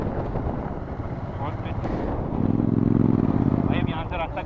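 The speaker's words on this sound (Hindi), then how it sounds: "बहुत तेज़ हवा चल रही है यार।" Strong wind buffeting the microphone during a motorcycle ride on a mountain road in the Spiti Valley, a constant blustery roar over engine rumble, with a voice speaking briefly partway through.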